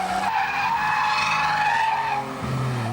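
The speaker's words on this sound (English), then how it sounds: "just sliding around corners with these big, long drifts" Tires squeal in long sustained skids while a car engine roars, the screech rising and falling as the car slides through a corner.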